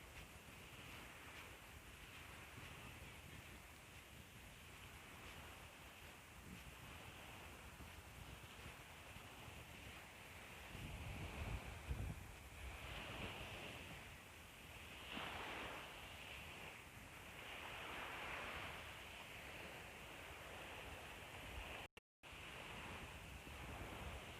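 Sea waves at a beach in Thailand roll in as a steady, broad wash of surf with wind buffeting the microphone, continuous and fairly close, with a few louder surges and no voices.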